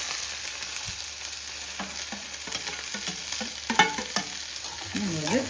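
Onion and green chilies sauté in a pan after mustard seeds and curry leaves for an egg thoran, a steady close sizzle broken by scraping spatula strokes and light clinks, with no talking.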